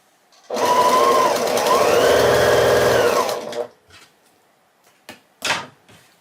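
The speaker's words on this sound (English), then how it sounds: "once you get to this point, they sew together pretty quickly" A sewing machine runs steadily for about three seconds, stitching a mini quilt together, then stops, followed by a few brief handling clicks and rustles.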